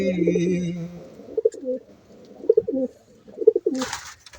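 Soft, low pigeon coos repeat at intervals, close by, with a brief hum of other sound at the start and a short rustle at the end.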